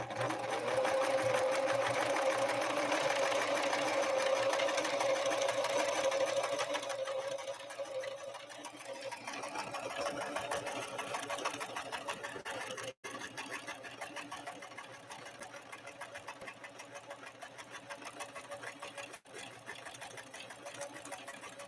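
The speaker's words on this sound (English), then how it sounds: "we'll see how this Husky 145, model 145, does with 4 layers of denim" A Husqvarna Model 145 sewing machine stitches through four layers of denim, its motor whirring loudly and steadily at first, then running on at a lower, slightly uneven hum, with a couple of sharp clicks later.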